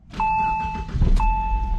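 Saab 9-5 Aero engine cranking and catching in a brief startup, a steady whine tone over low rumble, with a sharp rev flare near the end before settling.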